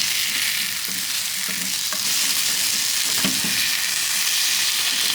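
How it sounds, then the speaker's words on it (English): Paneer with Kashmiri chili powder sizzles in a frying pan as it is stirred, a steady close frying hiss with occasional scraping knocks of the utensil. "we're just going to give that a stir"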